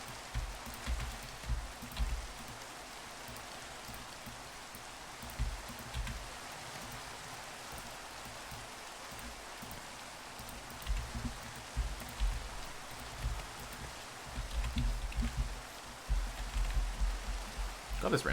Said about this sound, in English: this rain's kind of loud